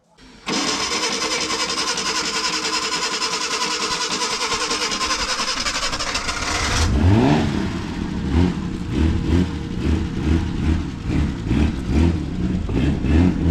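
A Ford Granada engine running on gas: a steady, loud mechanical drone for several seconds, then the engine is revved in repeated rising and falling pulses, with people talking near the car.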